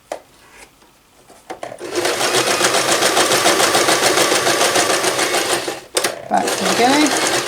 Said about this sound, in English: I tend to put my finger in here and kind of hold it taut and sew it round